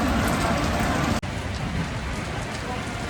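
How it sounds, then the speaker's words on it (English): Heavy rain pouring down on a city street in Nashville, a dense, loud, continuous hiss of drops hitting surfaces, with a brief dip partway through. "Light rain for the next hour. This is not light."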